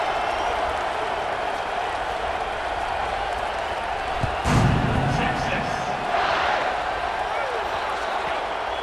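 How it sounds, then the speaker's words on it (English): Stadium crowd in the EA Sports College Football 26 video game keeps up a steady, loud roar with swells near the middle and later, under faint commentary. "this crowd is buzzing after that last score"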